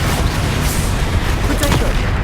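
A Bombarda spell in the Hogwarts Legacy game bursts in loud, dense booming blasts amid continuous combat noise, with a sharper crack near the end.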